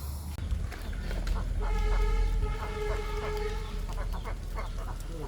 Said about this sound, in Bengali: আর ওই যে হচ্ছে আমার প্রিয় মোরগ